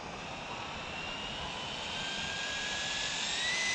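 A Traxxas Slash 4x4 RC car with VXL electronics runs at full throttle on a 3S battery, producing a continuous high-pitched whining roar that rises steadily in pitch and loudness as it speeds away, with no talking.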